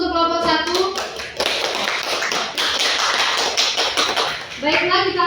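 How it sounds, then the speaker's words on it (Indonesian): Classroom applause after a fifth-grade elementary school group presentation, a burst of clapping from the class lasting several seconds, dense and steady, with children's voices briefly around the edges. "Beri aplaus untuk kelompok 1."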